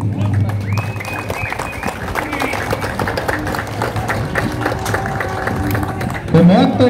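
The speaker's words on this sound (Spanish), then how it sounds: "para quien voy a solicitar un caluroso y fuerte aplauso" Crowd at a patron saint festival in Chilete applauding, a broad wash of clapping under loud festive background noise and an amplified voice, steady throughout with a brief surge near the end.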